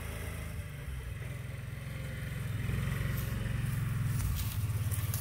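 A Kawasaki motorcycle engine runs steadily nearby on a scenic road with cedar trees, its low rumble rising slightly in level partway through and holding a continuous drone without speech.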